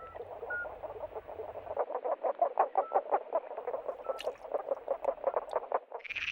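A spadefoot toad calls with a rapid, steady train of short pulses repeated for several seconds, fairly faint and alone without any voices.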